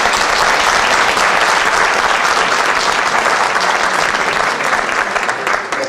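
A large indoor audience applauding at a conference talk, dense loud clapping sustained throughout and fading slightly at the very end.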